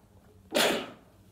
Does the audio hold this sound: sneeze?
yes